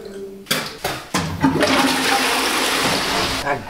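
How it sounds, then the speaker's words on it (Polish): A loud toilet flush roars in a small bathroom, a few sharp clunks of the lever and handle first, then a sustained rushing torrent of water that holds steady for several seconds before tapering off. "Tak głośna jest ta spłuczka tam."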